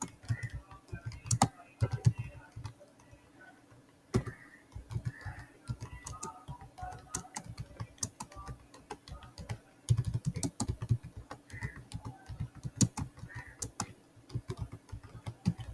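Computer keyboard typing in quick irregular bursts of close clicks with brief pauses, heard alone without talk.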